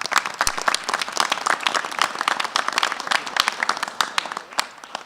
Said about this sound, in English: give our paramedics, our firefighters, and our police officers a round of applause